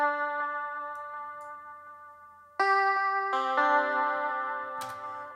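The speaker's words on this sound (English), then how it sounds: "The first thing is a guitar melody, and this one is bounced to audio." Lap steel guitar melody from a Spitfire Labs plugin, bounced to audio for an emotional deep house track: a soft, sustained tone with gliding pitch and gentle plucked attacks that thickens into a brighter chord midway, clean and alone.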